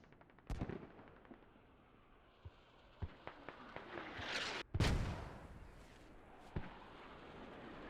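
Mortar fire in the tactical shooter Squad during a competitive match: scattered distant booms and sharp cracks, with a heavier blast and rumble midway, mixed with faint gunfire, fairly quiet overall.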